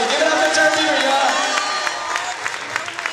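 Crowd at a turf dance battle cheering and clapping, a dense continuous roar of voices and applause with scattered sharp claps and shouts, loud and steady, tapering slightly toward the end.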